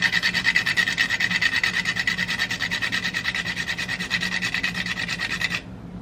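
Whole nutmeg is grated on a kitchen rasp in quick, regular back-and-forth scraping strokes, close and crisp, stopping abruptly near the end.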